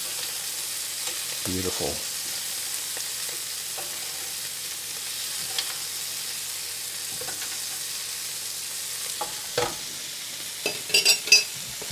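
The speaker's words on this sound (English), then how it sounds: "I'll use a little bit of the butter to baste our scallops." Scallops sizzling in a pan while being basted with butter, a steady close frying hiss with occasional spoon clinks and scrapes, and a brief spoken word near the end.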